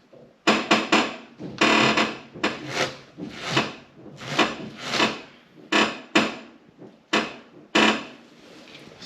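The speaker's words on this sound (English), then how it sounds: "still that awful creaking binding sound" Repeated loud creaking and binding from the suspension of a 1973 VW Super Beetle with a Subaru swap and Topline suspension, a rhythmic series of rubbing groans close by, one after another with short gaps.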